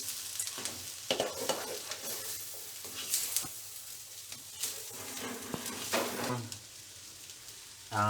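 Schezwan fried rice sizzles in a hot pan while a utensil stirs and scrapes through it in irregular strokes, close up and moderately loud with no speech.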